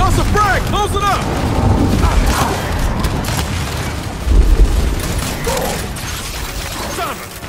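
Gears 5 combat with a frag grenade blast and bursts of gunfire, booming impacts and clatter under shouted voices, with one heavy explosion standing out midway.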